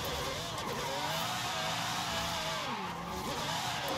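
A tuned car in Forza Horizon 5 revs steadily with its engine pitch rising and falling through gear changes, a continuous loud drone with faint tire noise, no voices over it.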